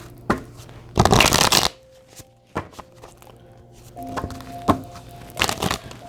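Chakra activation cards are shuffled in loud, close bursts of riffling, with a dense flurry early on and more later, separated by lighter taps and handling noises.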